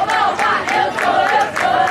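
Distant Graydon fans at a boys' football final, a steady crowd din with repeated rhythmic chant-like swells, moderately loud and unbroken throughout.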